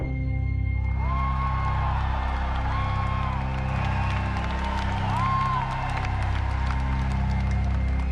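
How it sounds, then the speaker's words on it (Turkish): A large crowd at Sony's E3 press conference claps and cheers loudly and continuously as Naughty Dog is announced. The applause sounds dense and spread across the hall, with a musical tone rising and falling underneath it. "Naughty Dog'ın ismi belirir belirmez hayranları tarafından bir alkış tufanı koptu"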